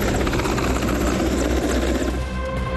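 A BSF rescue helicopter evacuating flood-hit villagers in Akhnoor, Jammu and Kashmir, thuds steadily nearby with a loud continuous rotor chop and engine whine, no voices.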